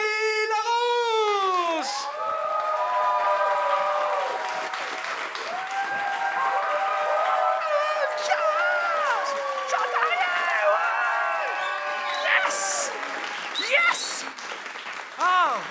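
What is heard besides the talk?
audience cheering and applause for the game master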